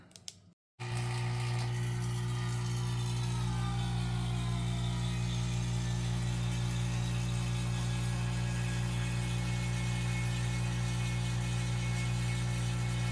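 An automotive A/C vacuum pump starts abruptly and keeps running with a loud, steady mechanical whir and hum, close by and unchanging.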